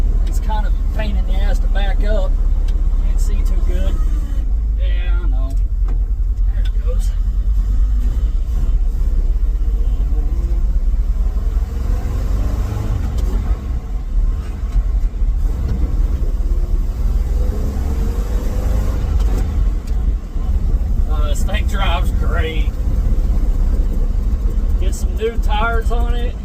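Ford F350 dump truck on old, dry-rotted, rock-hard tires chugging along with a heavy, constant low engine rumble from inside the cab, while people talk intermittently over it.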